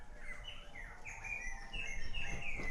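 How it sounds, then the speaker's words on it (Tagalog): Birds chirp and tweet repeatedly in short rising calls over a steady wash of rain or wet ambient noise, fairly close and continuous. "Masaya din po ang mga ibon."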